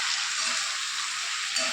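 Food sautéing and being cooked down in a pan, a steady, close hiss of frying with faint stirring, no voices.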